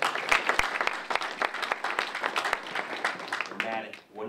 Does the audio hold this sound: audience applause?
yes